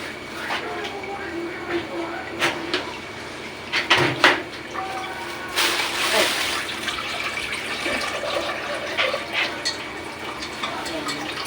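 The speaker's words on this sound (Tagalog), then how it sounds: "Dagdagan ko na lang siya ng tubig." Water is poured into a cooking pot of diningding with rousong, a continuous splashing fill that swells loudly for a few seconds with kitchen clatter around it.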